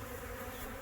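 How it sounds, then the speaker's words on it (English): A honey bee buzzes near a sugar-syrup feeding station, giving a short, steady, close drone lasting under a second with no voices. "And there's a bee."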